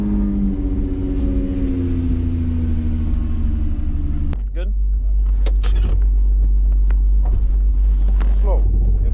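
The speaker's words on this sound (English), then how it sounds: "Start the car and go in slow back." A car with a VR6 engine idles with a deep, loud rumble before the engine note changes and settles as it begins to creep slowly in reverse, with light clicks and a person speaking briefly nearby.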